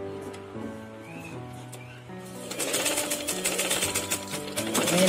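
A sewing machine runs a stitched seam along a fabric edge, its motor whirring steadily and growing louder and busier midway, with a faint tonal hum underneath.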